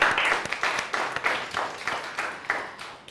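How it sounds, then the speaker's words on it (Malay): A school class clapping steadily and fairly loudly in a classroom, close by, with no one speaking. "sila beri tepukan kepada kumpulan dua"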